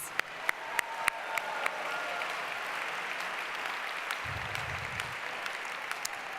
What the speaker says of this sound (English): let's applaud all the fathers in the house.